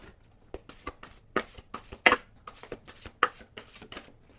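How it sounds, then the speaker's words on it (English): A deck of tarot cards is shuffled by hand at close range, giving a run of irregular soft slaps and riffling taps, quiet and with no talk over it. "One more shuffle."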